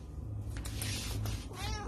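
A cat meows several times, drawn-out and fairly close, over a steady low hum.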